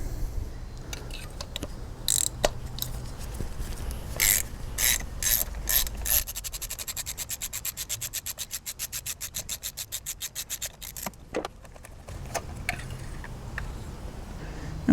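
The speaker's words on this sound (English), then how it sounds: "we will be using a standard 5/8 spark plug socket." A ratchet turning a standard 5/8 spark plug socket loosens a spark plug on a BMW N52 engine in an E90/E92, with scraping and clunks first, then a long run of rapid, even clicks up close, and more handling noise after.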